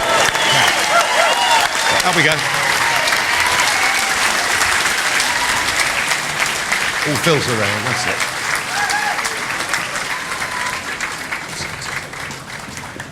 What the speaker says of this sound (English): a massive cheer for Nigel Farage